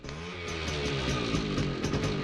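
A motorbike passing close by in a film scene, its engine a loud continuous buzzing drone with a shifting pitch that holds throughout.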